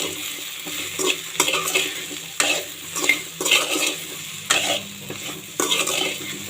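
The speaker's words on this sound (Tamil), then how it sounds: "வெண்டைக்காயில் சால்ட்டு போட்டு வதக்குறேன்." Okra sautés with salt in a pan for vendakkai poriyal, with repeated rhythmic spatula scrapes against the pan over a steady close sizzle and no talking.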